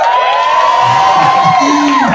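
A crowd at a Lambda Sigma Upsilon step show cheers and whoops loudly, with high shouts and screams rising over a dense, continuous roar of voices.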